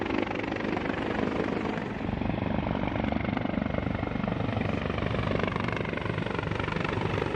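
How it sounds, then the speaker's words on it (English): A CH-53E heavy lift helicopter flying at the Miramar Air Show in San Diego gives a loud, continuous rotor beat over a deep engine roar, steady throughout with no talk. "the Marines showcased the CH-53E's heavy lift capability by lifting a joint tactical vehicle and an M777 howitzer"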